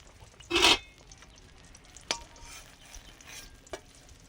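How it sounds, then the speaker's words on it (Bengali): Eggplant frying in a pan, stirred with a sharp scrape near the start, then a few fainter clinks over a low, quiet sizzle. "বেগুনগুলো ভাজা হয়ে গেছে, নিয়ে নিচ্ছি।"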